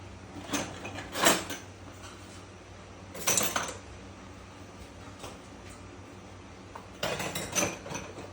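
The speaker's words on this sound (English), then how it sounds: "So get these spoons out" Metal spoons clink and rattle as they are pulled from a kitchen drawer, in three short clattering bursts separated by quiet pauses, fairly close.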